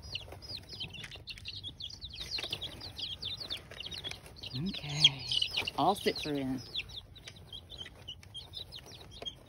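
Young chicks cheep continuously in high, rapid peeps throughout, close by, with a person speaking briefly partway through.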